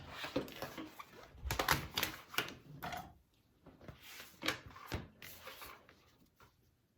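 A blade cuts out sewn fabric for a divider bag with short, quiet crunching strokes and brief pauses, close and faint, with no talk.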